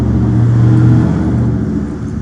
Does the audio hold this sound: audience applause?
no